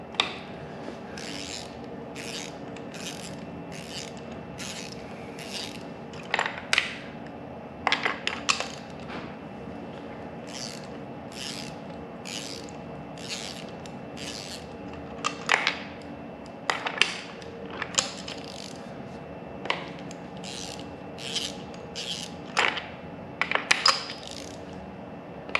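A wrench torques spark plugs, with repeated rhythmic ratcheting clicks in short bursts and occasional sharper metallic clinks, close and fairly quiet over a low background hum.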